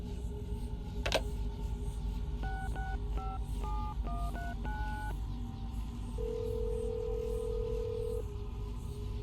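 Telephone dialing in Assassin's Creed Brotherhood: a sharp click, then a quick sequence of about ten dual-tone keypad beeps, followed by a single long steady tone, all over a low background hum.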